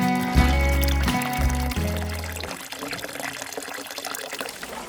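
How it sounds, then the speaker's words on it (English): A village fountain in Trevélez, Spain, pours water in a steady, close splashing stream, with a tonal, musical sound at the start and an unbroken trickle continuing underneath. "Another one of the interesting features of Trevélez are these fountains that you see scattered throughout the three barrios."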